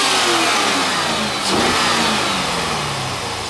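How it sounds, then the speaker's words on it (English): A 350-horsepower LS1 V8 from a 2004 C5 Chevrolet Corvette, paired with an automatic transmission, revs up loudly and close, its engine note rising and falling in one sustained burst. "Go ahead and rev it up."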